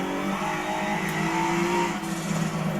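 A race car in Forza Motorsport 7 revs hard through its gears, a loud, close engine whine with rising and falling pitch, and a faint tire squeal under it.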